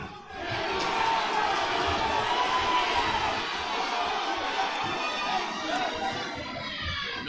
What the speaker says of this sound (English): The crowd's really goading him on, isn't it? Every punch is being cheered.